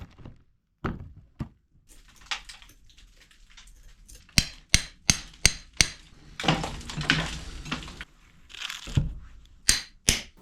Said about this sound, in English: A hammer, chisel, and crowbar are usually sufficient.